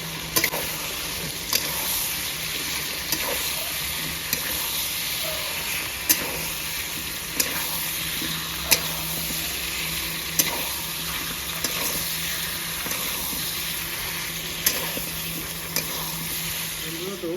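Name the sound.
potatoes frying in tomato gravy with cauliflower and peas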